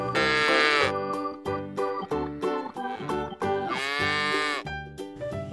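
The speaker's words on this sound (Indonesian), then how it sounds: "Induk sapi, teman-teman." A cow moos loudly and repeatedly, with long drawn-out lowing calls and shorter bellows between them, close and clear with no voices.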